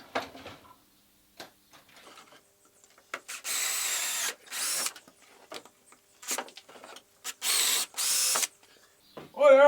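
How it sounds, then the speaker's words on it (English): A power drill drives screws into a tree to mount a rustic wooden nest box, close and moderately loud, in short whirring bursts separated by pauses, clicks and handling noise. "We've got to have two holes to screw it into the tree"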